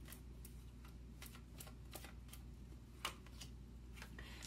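Tarot cards shuffled and drawn during a reading, soft crisp flicks and riffles repeating at an uneven pace, faint and close against a low steady hum.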